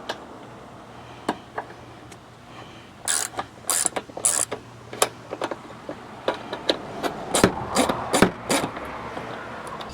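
Ratchet working a bolt loose beneath the front airdam of a Chevy Colorado: scattered sharp clicks and short bursts, sparse at first and then denser, close and fairly crisp over a faint background hum, no talking.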